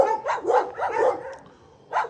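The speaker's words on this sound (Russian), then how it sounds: "Лают собачки." Dogs at an animal shelter bark in a quick, loud series of close barks, pausing briefly before one more bark near the end.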